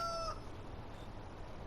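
Rooster in Farming Simulator 19 gives a brief crowing tail that ends quickly, then only faint background ambience; quiet overall.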